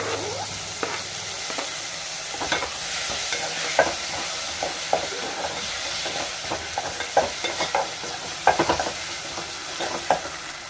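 Tomatoes fry in a pan with onions and ginger-garlic paste for a fish curry, a steady close sizzle broken by frequent scraping strokes of a stirring spoon.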